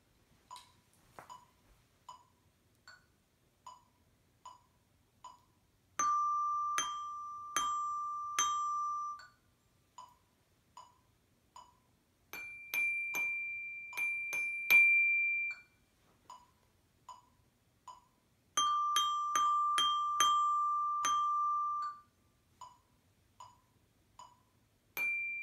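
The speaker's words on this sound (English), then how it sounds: "make sure that you dampen or mute the bells, so you place your fingers on the bell afterwards, on the bar, just to make sure it stops vibrating" Tuned percussion bells are struck in short rhythmic patterns, bright ringing tones alternating with quieter single taps, each phrase sustained briefly and then cut off as the bars are damped by hand.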